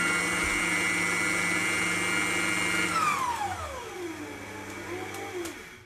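An electric mixer whips lemon lime cheesecake filling with a loud, steady motor whine that holds for a few seconds, then drops in pitch as the mixer slows toward the end.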